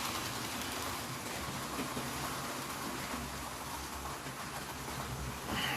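A Hornby model train locomotive labors along its track pulling coaches, giving a continuous whirring, rumbling mechanical drone with steady rail clatter, close and alone with no voices.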